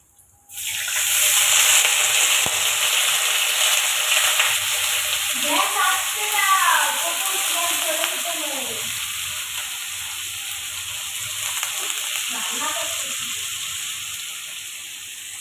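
Food sizzles steadily in hot oil while cooking, a constant close frying hiss with a voice speaking briefly partway through.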